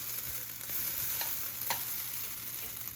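Beef chow mein noodles sizzle and fry in a pan with steady crackling, broken by a couple of sharp scraping flips as the noodles are turned; close and fairly loud, no talking.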